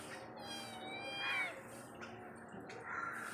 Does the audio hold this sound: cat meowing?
yes